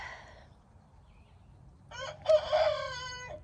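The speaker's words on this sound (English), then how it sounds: "And then you can hear the neighbor one. Cock-a-doodle-doo." A neighboring rooster crows once in the distance, a clear rising and falling cock-a-doodle-doo after a brief faint call at the start, over quiet rural background.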